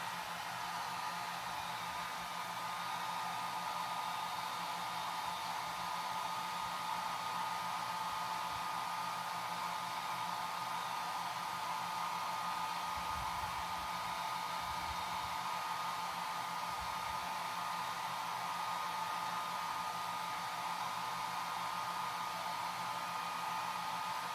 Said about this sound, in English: I'm gonna push and seal everything down my blow dryer